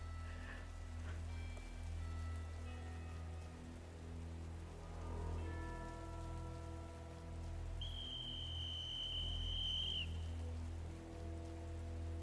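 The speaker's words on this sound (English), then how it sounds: "Rain pours down in sheets" Heavy rain pours down in a steady, even hiss throughout, faint and continuous, with soft tonal game music and a thin whistle-like tone drifting over it partway through.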